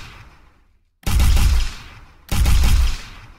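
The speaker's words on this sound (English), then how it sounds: "So, I say tap once, and I only shoot three." High-burst gunfire in a video game, firing three rounds per trigger tap: two loud, close bursts of rapid shots, each ringing out briefly before fading, with a short silent gap before the first.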